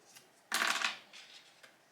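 Scissors snip through a false-nail wrap sticker sheet, giving one short, close, crisp cut that fades quickly amid quiet surroundings.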